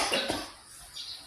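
Two short, fairly faint coughs from a person come in quick succession near the start, then a quiet room with a soft hiss.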